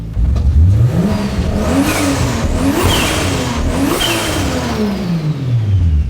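A loud car engine revs up and down repeatedly, rising and falling in pitch several times, close and powerful, with no voices.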